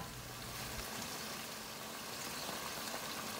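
Bagoong alamang (shrimp paste) with vinegar and sugar simmers in a covered pot over low heat, giving a steady, soft bubbling hiss that stays even throughout.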